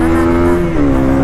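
A Honda CB250R 250cc motorcycle engine revs hard and loud up close, a dense, sustained buzzing drone whose pitch shifts slightly as the throttle changes.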